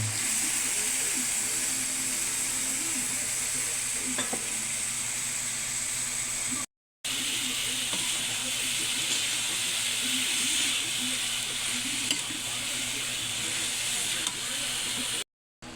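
Bean sprouts sautéing with tomato in a pan, seasoned with salt, pepper and Magic Sarap, give a steady close hiss and sizzle, broken by two short gaps.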